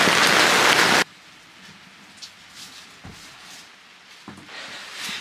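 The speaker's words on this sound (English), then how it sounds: "Outside is raining, so we cannot work outside." Rain falling outside on an off-grid farm, a loud dense hiss at first that drops to a faint steady patter with scattered drips.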